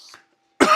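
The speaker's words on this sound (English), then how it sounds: "Mom was coughing for the heck of it." A woman gives one short, sharp cough close by, following a brief faint sound.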